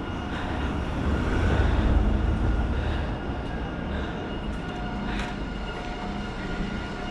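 A large train rolls past near Sikkim and Darjeeling, a continuous heavy rumble of wheels and wagons that swells early and then holds steady, with faint high squeals.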